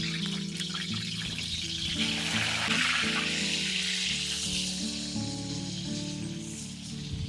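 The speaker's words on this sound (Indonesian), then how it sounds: "Tempe tak goreng sik ya" Tempeh frying in a pan outdoors by the seaside, a continuous hissing sizzle of hot oil, fairly close and steady, with a low background hum and no talking.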